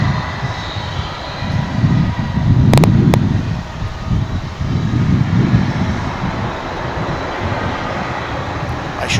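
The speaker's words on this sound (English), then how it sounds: "American Flight 604 arriving from McAllen, Texas. A 737-800." An American Airlines Boeing 737-800 arrives at Dallas/Fort Worth airport, its engine roar swelling and fading in a steady broad rumble heard from nearby, with a couple of brief sharp clicks partway through.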